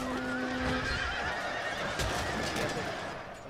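Horses whinny amid a large cavalry clash in the video game Shogun 2: Total War, a shrill neigh near the start over dense, continuous battle noise with clattering hooves and shouting.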